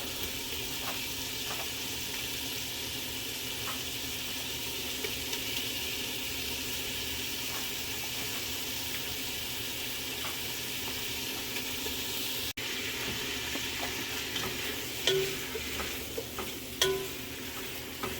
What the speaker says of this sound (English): Now this is starting to cook, I'm going to start adding the sausage in.